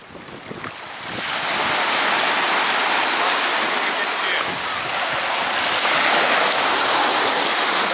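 Sea waves wash over smooth rocks in a loud, steady roar of surf that swells after a quieter start and holds close and continuous.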